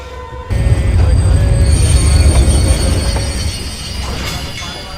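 Passenger train running on an Indian railway line, with a loud, close steady rumble, wheel noise and high squealing tones continuing throughout after a brief quieter start.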